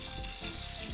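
Washed, dried herb roasting in a red pan, giving a continuous close sizzle with light stirring scrapes.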